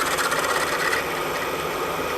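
A drill bores a 5/16-inch hole through a custom Harley-Davidson motorcycle triple clamp, giving a steady, close grinding whir with a rasping, metallic texture that holds even throughout, with no talking.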